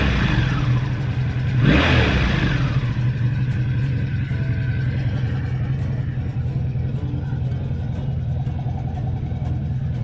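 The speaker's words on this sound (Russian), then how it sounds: "Вот так работает японский мотоцикл" A Honda VF500 Magna V30 V4 motorcycle engine idles steadily nearby, with a brief rev near the start before settling into an even, rumbling run.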